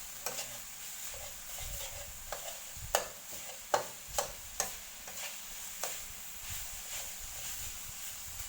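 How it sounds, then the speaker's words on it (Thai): Chili paste is stir-fried in a pan over low heat. A spatula scrapes and taps the pan at an irregular pace over a soft, continuous sizzle. "ไปค่อยๆคั่วใจเย็น ๆพริกเขายังไม่แตกเลย"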